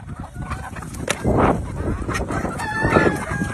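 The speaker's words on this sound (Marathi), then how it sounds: "आपण आणलाय पक्षी किती आवडीने कांदा खातो तुम्ही बघा." Chickens on a desi poultry farm in Pune feeding on finely chopped onion pieces, with clucking and short crowing calls rising over scratchy pecking and shuffling, fairly close and moderately loud.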